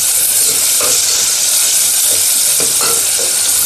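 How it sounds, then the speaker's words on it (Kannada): Ingredients for biryani stirred as they fry in a pan, a steady loud sizzle with scraping stirring strokes recurring throughout, close up and alone with no voices. "ಸ್ವಲ್ಪ ಗೋಲ್ಡನ್ ಬ್ರೌನ್ ಆಗೋ ಗಂಟ ಸ್ವಲ್ಪ ಮಿಕ್ಸ್ ಮಾಡೋಣ."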